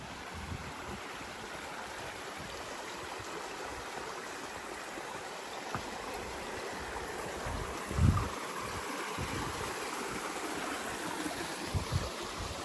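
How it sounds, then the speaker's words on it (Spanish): The Cerezuelo river near Cazorla flowing, a steady broadband rush of running water throughout with a brief louder splash or bump midway. "Oh, qué bonito el río."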